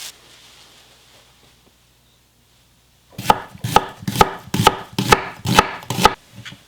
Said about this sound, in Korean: 파는 이렇게 반을 갈라서 지름하게 쓸거든.